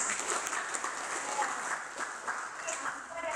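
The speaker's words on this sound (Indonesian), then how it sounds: "Tepuk tangan untuk kita semua." Participants in an Indonesian nursing lecture on hypertension clap together in a brief, steady round of applause, moderately quiet and evenly sustained, with no speech over it.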